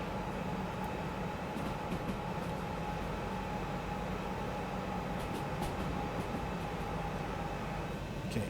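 Train with two locomotives rolling along in the railway simulator game Derail Valley, a steady low engine drone and rail rumble with faint clicks, continuous and moderately quiet, with no talk.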